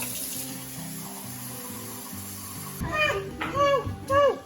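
Water is poured onto a dinosaur egg toy, splashing and trickling close by for about two seconds while someone talks over it with rising, excited speech.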